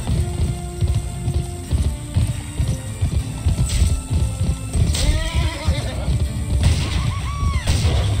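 In the PS2 video game GUN, a horse whinnies and gallops with rhythmic clip-clop hoofbeats, game effects and music mixed in, while a player talks at times.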